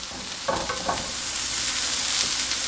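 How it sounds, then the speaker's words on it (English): Vegetables sautéing in a pan make a steady, close hiss and sizzle, with a few brief utensil scrapes early on and no voices. "So we're going to let that saute for about 5 minutes."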